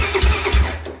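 A 1999 Honda 400EX ATV engine cranking over, low rhythmic pulses from the starter turning the motor, loud and close, with no voice.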